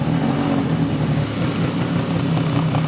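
A Vespa PX two-stroke scooter engine given light gas while the clutch friction point is found: a loud, close, steady buzzing drone with a slight rise and wobble, no talking.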